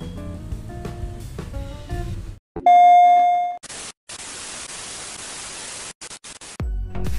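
A bright notification bell chime rings out after a stretch of music, followed by a burst of loud static hiss that cuts off abruptly.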